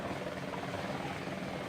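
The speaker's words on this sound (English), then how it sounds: "And now to the helicopter." Helicopter in the Vietnam War video game Battlefield Vietnam, a steady, dense rotor and engine roar that fills the short stretch at constant loudness, with no voices.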